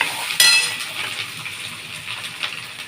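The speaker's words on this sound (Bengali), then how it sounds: "আলুগুলো একটু ভাজা হবে বন্ধুরা" Potatoes with grated ginger frying in a pan, a soft steady sizzle with one sharp metallic clink near the start, close and without talk.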